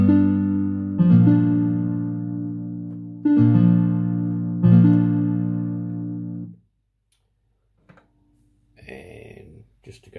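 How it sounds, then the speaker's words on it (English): A synthesized guitar voice on a Technics U90 organ plays three sustained, buzzy chords in succession, then fades out to near silence before a brief burst of other sound. "And two terrible sounding guitars."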